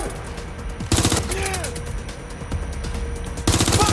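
Bursts of automatic gunfire from the Watch Dogs Legion video game, loud and repeated across the clip with short pauses between volleys, over steady game background noise.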